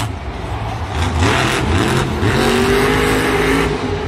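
A monster truck's engine roars loud and steady during a Monster Jam freestyle run at a Santa Clara stadium, rising into a revving surge with crowd noise washing behind it.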